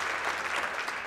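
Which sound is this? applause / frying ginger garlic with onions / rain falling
applause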